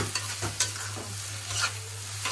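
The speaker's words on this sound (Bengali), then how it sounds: "এখন পেঁয়াজটাকে একটু ভাজা ভাজা করে নেব।" Sliced onions with bay leaf sizzle in hot oil in a pan while a spoon stirs them, giving a steady close frying hiss broken by several quick scraping strokes, with no talk.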